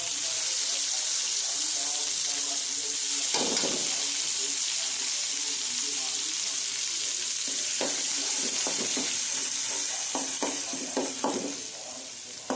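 Asafoetida and ginger-chili-garlic paste sizzling in hot oil, a continuous bright hiss with a burst as the paste drops in, then clinks and stirring scrapes near the end as the frying fades slightly.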